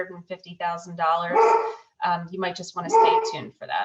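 A dog barks twice, loud and close, mixed in with someone speaking during an online business webinar.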